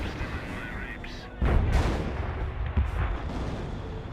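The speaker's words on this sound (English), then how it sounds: "Good mortar hit there on the Grenadier" A mortar shell strikes a German Grenadier in the Company of Heroes 1 video game, a sudden loud blast followed by rumbling debris and a second smaller impact amid ongoing battlefield noise.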